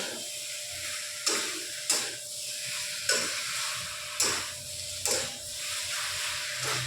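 Fried soya chunks and potato are stirred with spices in a pan, a spatula scraping the bottom in about six distinct strokes over a steady close sizzle and hiss.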